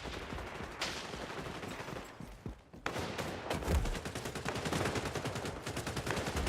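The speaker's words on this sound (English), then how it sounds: "he's got an MG, so makes sense" Sustained machine gun fire in the shooter game XDefiant, a loud, close, rapid burst that stops briefly and then resumes as an unbroken stream of shots.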